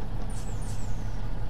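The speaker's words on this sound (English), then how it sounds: "Helps if you release parking brake" Air hiss from the parking brake releasing on a 70-ton train in a video game, a brief pneumatic rush with a steady low engine drone running underneath throughout.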